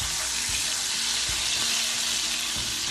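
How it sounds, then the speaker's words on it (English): Liquid hitting a hot frying pan as white wine vinegar deglazes it, a steady loud sizzle with bubbling and scraping throughout, no talking. "add just about 1 teaspoon of white wine vinegar, 2 teaspoons actually, just to deglaze the pan like that."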